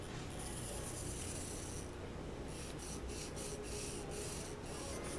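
Chalk rubbing and scraping across the fabric cover of a homemade oversized ironing board while a 1.5-inch margin is marked, a soft continuous scratchy rasp in short strokes, close and fairly quiet.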